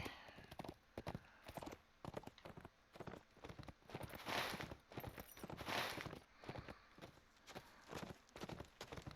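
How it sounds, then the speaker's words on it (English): A horse's hooves clip-clop in a steady walking rhythm in The Lord of the Rings Online. The hoof beats come through faint and repeat on their own, with no voices. "And now I want to get off the horse."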